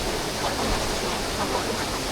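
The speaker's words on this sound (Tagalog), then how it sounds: "Yung lakas ng tubig" A powerful waterfall high on a mountain at Ubot Falls roars as a steady, dense rush of falling water, loud and close, with no voices.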